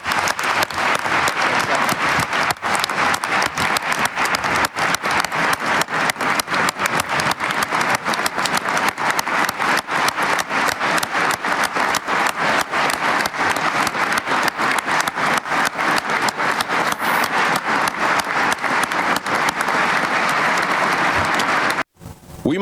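An audience at a UEFA congress gives a long round of applause, dense sustained clapping from a large hall crowd that continues steadily before stopping abruptly near the end.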